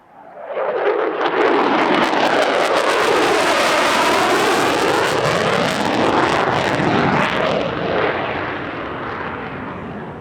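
A carrier-capable F-35C fighter jet flying at the California International Airshow 2023, a huge roaring pass that swells from silence, holds a loud, rumbling, phasing roar for several seconds, then slowly fades.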